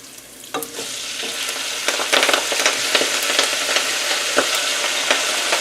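Broccoli rabe hits a hot pan with a burst of sizzling that settles into a steady, loud frying hiss, broken by scattered crackles and stirring clicks, with no talk.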